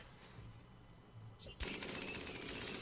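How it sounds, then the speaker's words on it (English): A minigun in the video game RimWorld fires at point blank range, a sudden dense burst of rapid gunfire that starts about midway and roars on loudly to the end after a quieter opening. "Mini gun at point blank range!"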